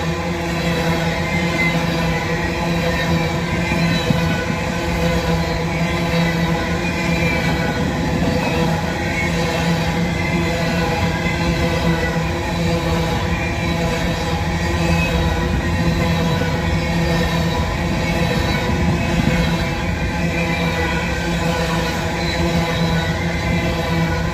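A long empty coal train rumbles steadily past at close range, wheels clattering on the rails in a continuous, even roar.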